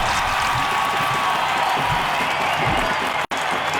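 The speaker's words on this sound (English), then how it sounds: "The home crowd isn't impressed with that showing" A home crowd in a football video game, giving a steady, loud wash of murmuring and faint applause that cuts out abruptly for an instant near the end, with no voices above it.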